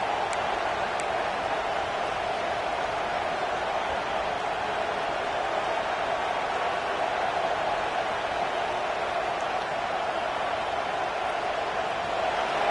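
A packed football stadium crowd roars during a college game, a loud, continuous wash of noise from a huge mass of people, steady and unbroken with no single voice standing out.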